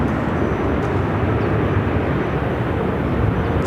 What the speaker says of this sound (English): It's United Airlines Flight 755 headed to San Francisco on a 737-800.